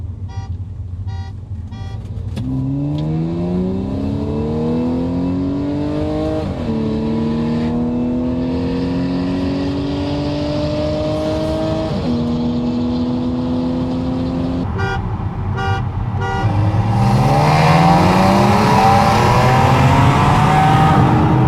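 A BMW 335i and an Audi S5 V6 turbo pull hard in second gear during a rolling race, with loud, close engine notes climbing steadily through several surges that end in a roaring, strained high-rev finish.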